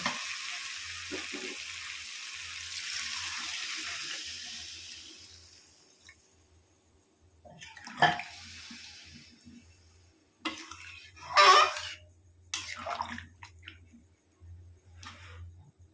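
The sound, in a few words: water poured into pan of cooking potatoes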